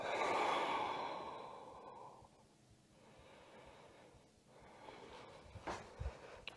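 Long, audible exhale during a Kriya yoga posture, a soft breathy rush that fades over a couple of seconds, followed by quieter breathing and a faint rustle near the end.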